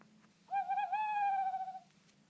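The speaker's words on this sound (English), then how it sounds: "Whenever that owl hoots," A single owl hoot rings out at night beside a lake, one long, clear, slightly wavering call that rises, holds steady, then fades, heard alone over a faint low hum.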